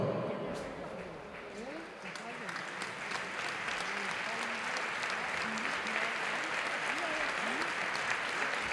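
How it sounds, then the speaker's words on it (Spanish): Crowd applause at a La Roda football match against Ponferrada for the club's youth players, a steady wash of clapping that swells and holds throughout, with a voice talking over it. "Fuerte el aplauso para ellos."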